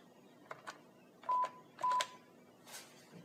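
Keypad tones pressed on an NEC XEN DTU office phone handset: several short quiet blips, then two longer, louder tones and a faint final press, clear and close with no talking.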